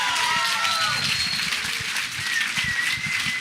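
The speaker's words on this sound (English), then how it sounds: "Big round of applause for that." A lecture-hall audience at a David Wilcock and Corey Goode talk breaks into sustained applause, a dense wash of clapping with a few high whistles cutting through near the start and again toward the end.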